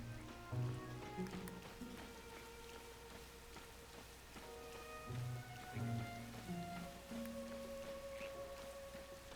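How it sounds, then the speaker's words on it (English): Steady in-game rain in The Legend of Zelda: Tears of the Kingdom patters softly beneath gentle tonal game music, with no voices. "Get rid of this rain."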